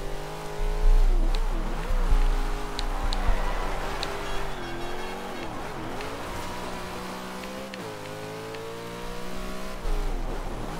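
Car drifting in Forza Horizon 2 on Xbox One S, engine droning and revving with rising and falling pitch, tire squeal accents, steady and loud throughout without talk.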